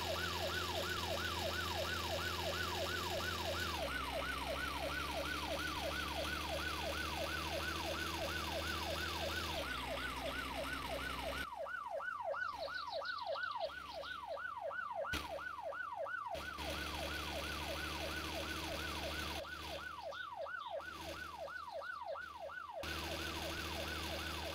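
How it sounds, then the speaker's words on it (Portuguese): Police car siren in the video game My Summer Car, a steady rapid wailing cycle that repeats throughout, loud and continuous with a car engine humming beneath and brief dropouts in the background. "É, a viatura tá vindo, hein, mano."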